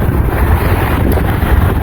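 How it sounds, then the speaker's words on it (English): Steady wind buffeting the microphone, a continuous low rumbling roar with gusty fluctuations throughout. "it's getting up windy now"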